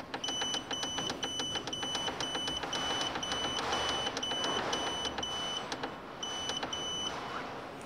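Growatt hybrid inverter giving a rapid series of high electronic beeps in regular bursts as it powers down, with a short gap near the end before the beeping resumes, over a steady background hum.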